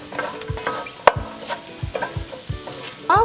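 Carrots cooking in a pan for pilaf are stirred with a utensil, giving rhythmic scraping strokes about every half second over a soft sizzle, with a sharp clack near the middle and no talking.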